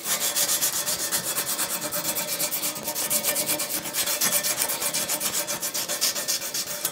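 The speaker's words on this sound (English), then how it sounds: "Just doing some deburring and corner rounding with some 180 grit emery cloth." Metal edges being deburred and corner-rounded by hand with 180 grit emery cloth on a cross slide guard for a Weiler Primus lathe, a close, loud, rhythmic rasping rub with quick regular back-and-forth strokes.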